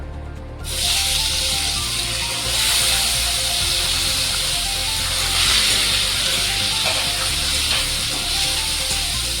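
Chopped tomatoes frying in hot oil in a pan, a steady loud hiss and sizzle that starts abruptly and continues evenly throughout, with no talking.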